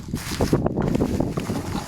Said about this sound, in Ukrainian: А цей тут ще й вітер, у нас усе кудись кудись летить.